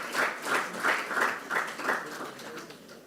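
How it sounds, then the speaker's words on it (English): A small audience at a professional young engineers' workshop claps in uneven bursts, moderately loud and close, tapering off toward the end with no voices over it. "Let's give him a round of applause"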